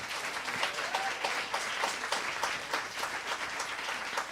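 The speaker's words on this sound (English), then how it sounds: "let's have a warm round of applause for Ms. Jenna McSwain." Steady applause from a crowd after a piano recital, dense clapping that fills the space continuously at an even level without letting up.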